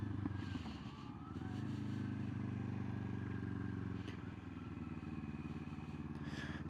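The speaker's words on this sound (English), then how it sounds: "first gear, going, clutch in, no throttle, kick up" A motorcycle shifts into first gear and pulls away, its engine note rising in a steady drone that stays close and loud for several seconds.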